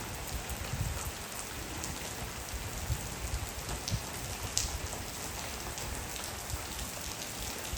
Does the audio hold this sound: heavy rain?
yes